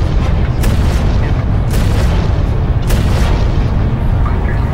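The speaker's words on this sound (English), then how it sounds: "The pipes burst in explosions of pressurized steam." Water pipes bursting in explosions of pressurized steam, heard as a loud, dense roar with several sharp bursts spaced about a second apart, in a dramatized city scene, with no voices over it.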